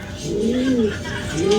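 Racing pigeons coo close by at a derby arrival clocking in San Francisco, Quezon: a low, rolling, throaty call repeating under a steady hum of background noise.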